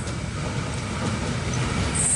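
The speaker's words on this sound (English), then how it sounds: "We have an Oscar passing platform number 3." A Sydney Trains Oscar set rolls past platform 3 at Tempe station with a steady, fairly faint rumble of wheels and carriages, heard briefly without speech.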